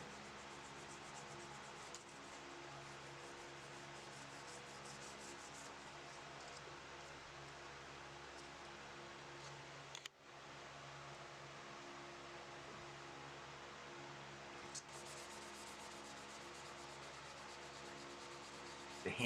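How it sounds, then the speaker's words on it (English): Steady, continuous rubbing and scraping of hand sanding water buffalo horn, with a brief pause partway through, set against a constant low hum. "The hand sanding process always seems to just take forever."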